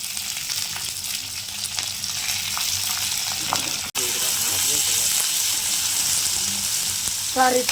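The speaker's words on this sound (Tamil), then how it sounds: "கருவேப்பிலை போட்டு வெங்காயத்தை சேர்த்துக்கலாம்" Curry leaves and chopped onions fry in a pan with a constant, loud sizzle, with brief stirring and a voice speaking over it.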